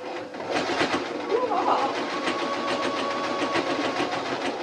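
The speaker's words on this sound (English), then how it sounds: "Now I'm sewing on the bobbin line, sewing to the edge of the fabric." A sewing machine stitching along the edge of T-shirt fabric, a fast steady mechanical whir with rhythmic clatter, close up, with someone talking over it.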